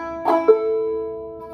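Clawhammer banjo playing part of Tom Dooley without the skip stroke, a short plucked phrase of a couple of bright notes that then ring out and fade, close and alone.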